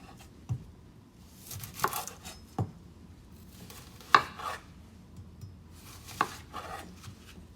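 A knife chops an onion on a cutting board in a home kitchen, with about half a dozen crisp, irregularly spaced knocks close up and quiet in between, and no talking.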